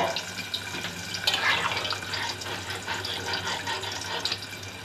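Water poured steadily into a cooking pot of mutton curry, a continuous splashing rush lasting the whole stretch, fairly close, with a voice talking over it.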